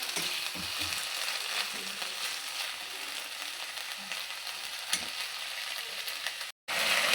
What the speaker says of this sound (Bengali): আদার সঙ্গে টমেটোটা ভাজা হয়ে যাবে